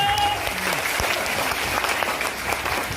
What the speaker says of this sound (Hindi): सभी लोग हैं, तालियां बजाइए अपने लिए